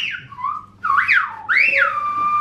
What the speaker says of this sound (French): on a même eu une démonstration du langage sifflé de l'île